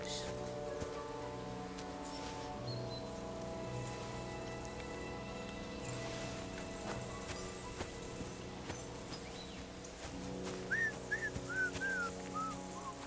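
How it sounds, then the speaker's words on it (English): A character in Kingdom Come: Deliverance whistles a tune on a rainy journey, with short rising and falling whistled notes late on over steady rain and a low droning game background. "Your whistling is getting on my fucking nerves the whole way"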